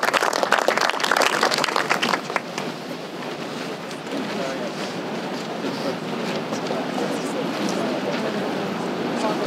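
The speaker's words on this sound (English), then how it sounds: "we should give her an applause" Applause rises from the audience at a park rededication ceremony, loud and dense for about two seconds, then drops to a quieter, steady patter of clapping that lasts until the end.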